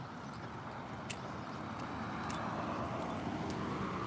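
A car drives by on a residential road, a soft broadband swell of tyre and engine noise rising slightly over a few seconds, moderately near with no talk.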